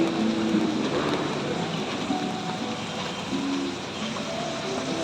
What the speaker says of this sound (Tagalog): Nabutan pa nga ng ulan